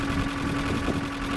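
A 1997 Nissan Pickup engine idles rough with a steady mechanical rattle, close and continuous throughout.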